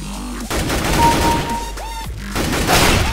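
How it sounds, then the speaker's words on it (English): Gunfire rings out in a first-person shooter video game with dual Beretta pistols, a loud rapid burst of shots and crashes with sharp tonal game effects in between. "Trevs just shot me in the head"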